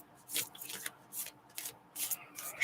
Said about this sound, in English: Let me see what the cards say, love. I'm shuffling.